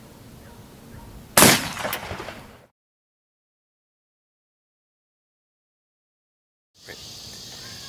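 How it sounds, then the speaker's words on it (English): A 12 gauge shotgun loaded with universal shot fires a single sharp blast at body armor panels and echoes briefly outdoors, followed by a stretch of dead silence. "Now we're going to do it with a 12 gauge, and this is universal shot."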